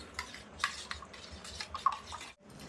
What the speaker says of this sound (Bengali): আমি এখানে তিন চামচ গুঁড়ো দুধ দিয়ে দেবো দিয়ে কিন্তু খুব সুন্দর করে গুলিয়ে নেব